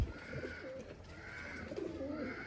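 Soft, low pigeon coos repeat in slow rolling phrases against a faint steady background hum, fairly close and unhurried.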